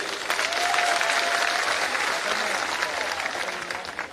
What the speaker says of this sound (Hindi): इमरान प्रतापगढ़ी, उनको तालियां बजाकर उनका आप स्वागत करिए।